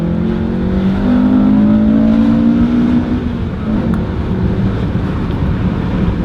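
A 1999 Acura Integra GSR engine winding out in second gear, a loud rising rev that climbs smoothly, then eases off as the car slows, heard close with no talking.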